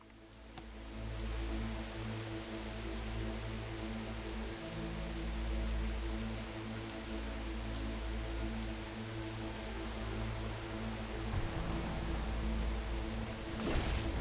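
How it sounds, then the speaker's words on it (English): Steady rain ambience toggled on as a weather effect in World of Warcraft's Mulgore zone, a continuous even hiss holding throughout under a low droning game soundscape, with no talk. "Let me change skyboxes and rain effects, or rather, weather effects."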